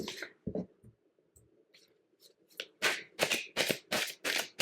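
Tarot cards are handled quietly at first, then riffled in a run of quick, crisp shuffling bursts near the end, close up with no talking.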